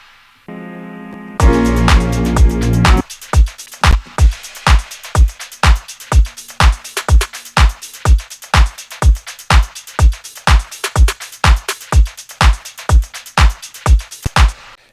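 A drum pattern with a plate reverb on the snare sent through a return track: a short opening swell gives way to a steady, loud groove of punchy kick and snare hits with an airy tail, and no one speaks.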